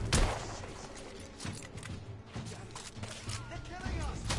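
Rifle shots ring out in The Order 1886's gunfight against rebels in a courtyard, several sharp cracks scattered through a continuous bed of in-game combat noise, with someone talking over the action.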